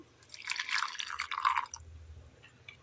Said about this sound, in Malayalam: ഒരൽപ്പം തിളപ്പിച്ചാറ്റിയ വെള്ളം